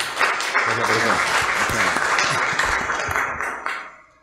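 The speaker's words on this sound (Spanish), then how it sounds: "vamos a recibir con fuerte aplauso al profesor Fernando Delgado Alvisuri." Hearty applause from an audience welcoming a professor to a lecture on constitutional law, dense clapping with some voices mixed in, tapering off over the final second.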